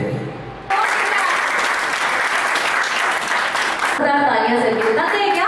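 Loud applause from an audience at a road safety award ceremony, a dense steady wash of clapping that bursts in after a brief lull and continues throughout, with a voice faintly audible near the end.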